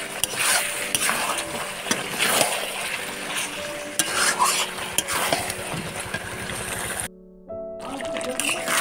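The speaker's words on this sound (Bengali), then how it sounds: "এবার আমি চিকেনটাকে দিয়ে দেবো আর দিয়ে ভালো করে কষবো" Chicken stir-fried in a spice paste in a pan, with steady sizzling and stirring scrapes running throughout and a brief drop near the end; voices talk over it.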